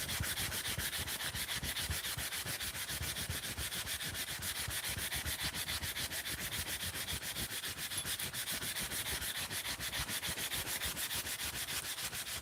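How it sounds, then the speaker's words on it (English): Rhythmic hand sanding of a copper piece, quick back-and-forth rasping strokes repeating evenly and close up, with no voices. "And I am sanding it this way because it creates a dome on the copper, which I really like."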